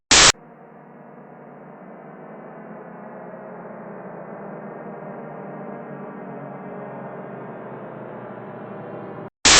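The THX Deep Note logo sound: a dense, loud synthesized drone of many sustained tones that swells into a broad, steady chord and holds for several seconds, then cuts off.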